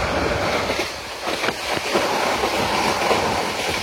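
Mohanagar Godhuli Express running from Brahmanbaria toward Dhaka, passing through Hatubhanga station, with a steady loud rushing roar and faint rail clatter heard from on board, no voices.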